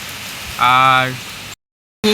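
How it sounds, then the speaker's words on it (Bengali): Heavy rain falls as a steady broadband wash; a short voiced sound cuts in briefly before the audio drops out entirely and then returns. "বৃষ্টি হচ্ছে খুব"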